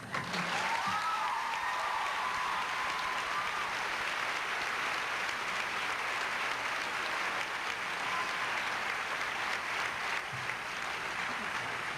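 Sustained applause from a university commencement audience at Wake Forest, a steady dense clatter of many hands clapping that carries on for the whole stretch with only slight swells.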